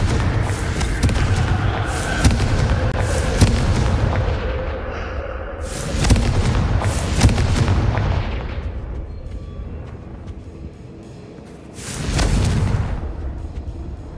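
Confringo spell blasts in Hogwarts Legacy go off as a series of booming explosions, loud and close, each with a sharp onset and a rumbling decay, spaced a few seconds apart over a steady low game ambience.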